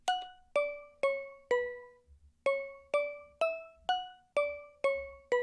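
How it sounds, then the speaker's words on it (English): A bell one-shot sample from KBZ's drum kit plays a melody of eleven bright, ringing struck notes, each with a sharp attack and smooth decay, in a steady rhythm with a short pause after the fourth note; there is no talk. "next up we got this bell one shot from KBZ's kit."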